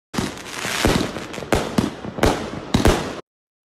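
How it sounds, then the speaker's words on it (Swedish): Fireworks being set off, with a rapid string of loud crackling bursts and several sharp, distinct bangs close by, ending abruptly. "En Instagram-story postad av rapparen Nummer Uno visade människor som avfyrade fyrverkerier."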